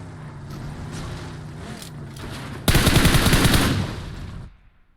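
Automatic gunfire crackles in a battle royale shooter match, a dense loud burst that starts abruptly and rattles on for under two seconds over steady game ambience, then cuts away to near silence.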